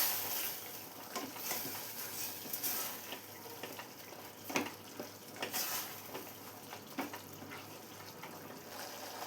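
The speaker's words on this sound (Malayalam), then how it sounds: "എല്ലാം കൂടെ ഒന്ന് മിക്സ് ചെയ്ത് കൊടുക്കാം." Cucumber curry with tomato and onion being stirred in a pan, a soft steady sizzle and bubbling with faint scraping taps of the spoon, close and fairly quiet, no talking.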